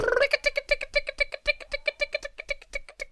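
A cat meows repeatedly in a rapid, rhythmic series of short, evenly spaced calls, close and fairly loud, with no talk over it.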